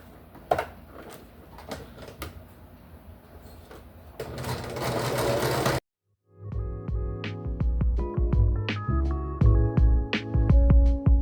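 A sewing machine stitches webbing in a steady, close run of rapid mechanical clatter that fills the second half after a brief pause, with earlier lighter handling noise and rustling before it starts.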